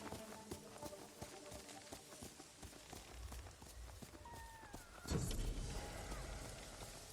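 Horse hooves clip-clop at a steady walking rhythm in Ghost of Tsushima, a moderate, continuous plodding under ambient game sound, with a brief louder whoosh near the end.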